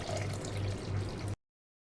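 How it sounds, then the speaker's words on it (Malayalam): Water poured into a pan of Kerala-style ripe mango pachadi with salt, a steady close splashing trickle lasting just over a second before stopping abruptly. "ഇതിലേക്ക് കുറച്ച് വെള്ളം കൂടെ ഒഴിച്ചിട്ട് നമുക്കിതിനെ ഒന്ന് വേവിച്ചെടുക്കണം."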